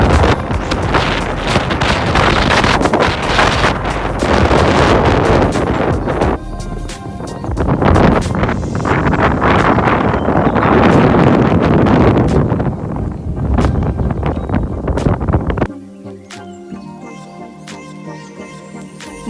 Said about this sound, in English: Let's listen to the wind.